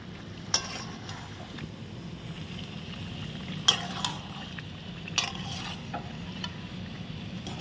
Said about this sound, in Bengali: মাংসটাকে দিয়ে দিলাম, সামান্য আমরা নেড়ে চেড়ে নিচ্ছি।